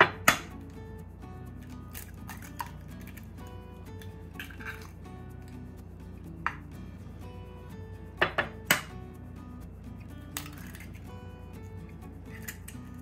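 Two eggs are cracked into a small bowl, giving sharp, close shell taps and cracks at irregular moments. Soft wet plops and drips fall into the bowl between them, all against a quiet kitchen background.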